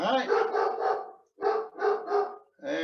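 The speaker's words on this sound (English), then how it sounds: "And my dog's barking up a storm." A pet dog barks in a burst of several sharp, fairly loud barks, pauses briefly, then barks again in another quick cluster.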